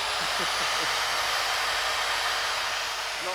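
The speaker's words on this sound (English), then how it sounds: "One by one, the screws on the handrail are cut and drilled out." A power drill bores out corroded screws on a 200-year-old wrought iron handrail, giving a loud, steady, close-up whirring roar that runs unbroken for the whole stretch.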